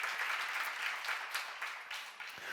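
A church congregation applauds, a dense, steady wash of many hands clapping together, heard fairly faintly and without any talk.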